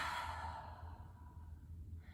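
A single deep breath is let out slowly through the mouth as a close, soft, airy sigh that fades over about two seconds.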